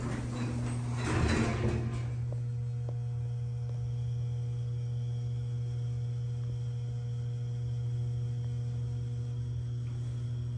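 A vintage Schindler Haughton elevator door at the Buell Building, Lawrence Tech, Southfield, slides shut with a short rattling burst near the start. A steady low machine hum continues afterward.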